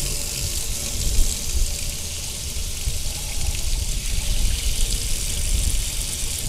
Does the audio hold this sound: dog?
no